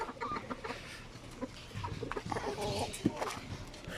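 Chickens, including young stags, cluck and murmur nearby at feeding time, a soft, continuous stream of low clucks with one sharper call.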